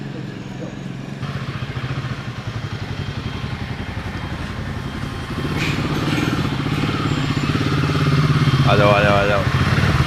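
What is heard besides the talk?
motorcycle arriving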